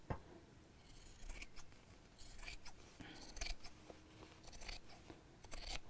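Scissors snip through fabric to trim a sewn book cover, a quiet close series of crisp irregular cuts with short rasping bursts and no talking.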